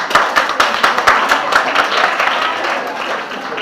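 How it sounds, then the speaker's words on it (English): A student audience at a nursing training college claps for a new supervisory body: a lively burst of many hands, strongest at first and then settling into a dense, steady patter. "Clap for that."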